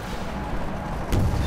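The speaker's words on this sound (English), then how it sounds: "There's a lot of gunfire." Gunfire and explosions from a firefight in the video game Half-Life 2, a dense continuous rumble of shots that surges louder with a heavier blast near the end.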